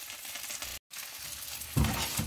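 Tofu sautéing in a pan, browning on all sides: a steady, close, dense sizzle with a brief cut-out and a louder surge of crackling near the end.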